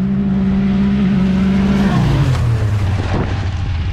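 Can-Am Maverick X3 XMR and Polaris RZR Turbo side-by-sides drag racing roar loudly and close by, one engine holding a steady high drone before dropping in pitch as the machines shift or pass.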